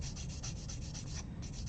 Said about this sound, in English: And then a tiny bit of sanding